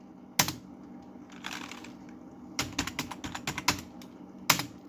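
Keystrokes on a computer keyboard come in scattered bursts and single clicks, sharp taps clustered toward the end, close and fairly loud over a low steady background hum with no talking.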